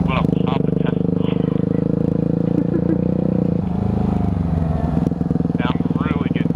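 2009 Yamaha WR250F dirt bike engine running steadily and loud while ridden, a constant buzzing drone with slight shifts in pitch, and a voice speaking over it near the start and end.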